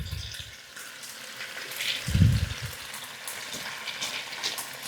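Shiitake and leek fry in a sukiyaki pan, a soft steady sizzle with a brief louder burst of sputtering partway through, moderately close and without any talk.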